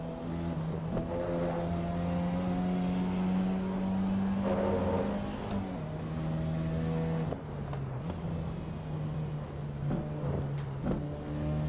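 A race car in Assetto Corsa EVO drones at steady engine pitch, with several gear shifts as the tone steps up and then drops on downshifts, close and continuous with no talk.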